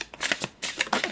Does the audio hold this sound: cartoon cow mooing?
no